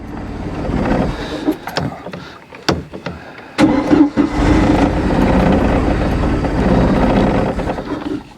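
A cold boat engine cranks with a few sharp clicks and catches, then settles into a steady, rough, rumbling run that fills the rest of the clip up close.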